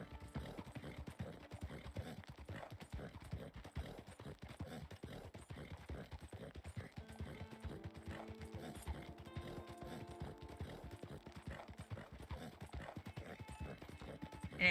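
Horse hooves clip-clop steadily at a quiet level in the Red Dead Online video game, a regular walking rhythm under faint game background sound.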